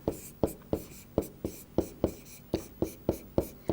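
Someone writes the word teacher on a board, a quick series of about a dozen crisp, evenly spaced tapping strokes, close and clear with no talk over them.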